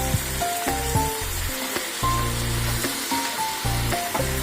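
Grated coconut sizzling in a hot pan for ash gourd curry, a steady close frying crackle broken by short bursts of stirring and tonal clinks.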